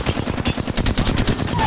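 Rapid bursts of automatic gunfire ring out in a Storm Point battle-royale video game match, loud and close, with sharp, closely spaced shots running continuously.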